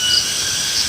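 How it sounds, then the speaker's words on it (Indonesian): Crickets chirp outdoors in a dense, continuous high trill, loud and steady with no other sounds. "Hanya suara jangkrik dari luar"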